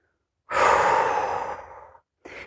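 One long, close exhale during a vinyasa yoga flow fades slowly, then a second breath begins right after a short pause.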